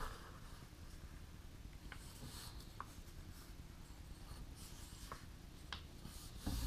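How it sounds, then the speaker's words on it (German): A square sheet of origami paper being folded in half and creased, soft continuous rubbing and scraping with a few sharp crinkles and taps, close and quiet. "Dieses quadratische Blatt Papier natürlich knicken wir einmal in der Mitte"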